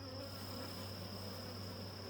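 Honey bees hum at a hive being tended, a faint, steady, continuous buzz with no voices.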